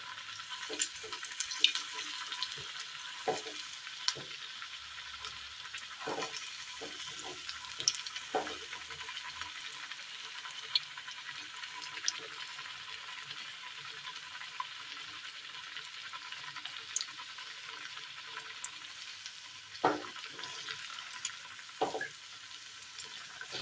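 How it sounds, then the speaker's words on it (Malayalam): Kerala snack dough balls fry in hot oil, a soft continuous sizzle and bubbling broken by scattered pops and crackles, close and fairly quiet with no voices. "ആ എടുത്ത ഉരുള ചൂടായ എണ്ണയിലേക്ക് വെച്ച് കൊടുക്കാം"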